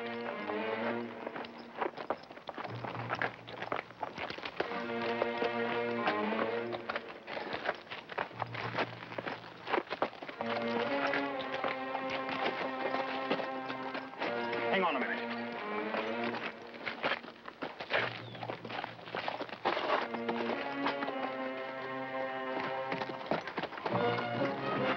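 Horses walk and run with a continuous clip-clop of hooves, accompanied by an occasional whinny, sounding moderately near in an old film scene.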